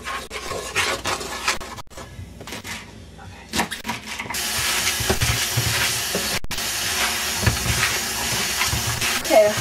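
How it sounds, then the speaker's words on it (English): Curry cabbage sizzles and hisses steadily in a hot pan, a loud continuous crackle with occasional stirring scrapes and faint movement close by. "It's cooking, bubbling up a little bit."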